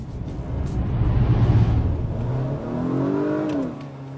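A car with Super Handling All-Wheel Drive accelerates hard: a steady engine roar that swells, then a rising whine as revs climb before easing off, with no talking.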